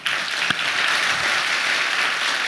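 Conference audience applauding at the end of a talk on MRuby, JRuby and CRuby, a dense steady roar of many hands clapping at even loudness throughout with one sharper clap near the start.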